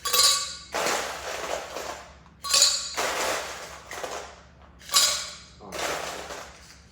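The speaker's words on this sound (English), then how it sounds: "Now we're gonna add some pretty ice to the glass." Ice cubes dropped into a glass for a strawberry cucumber spritzer: three separate bright clinking bursts, each a sharp clatter fading into a rattle, close and clear, with no talk.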